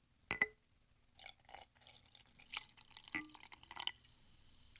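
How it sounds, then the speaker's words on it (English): Carbonated water with lemon poured into a glass: a sharp clink at the start, then soft trickling, fizzing and small drips, quiet and close with no voices. "adding my carbonated water with some lemon to it, which I'm going to try right now"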